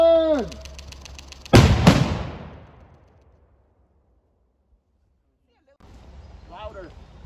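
A test explosion set off for crime scene research lands as one loud, sharp blast after a shouted countdown, its rumble fading over about two seconds into silence before distant voices return.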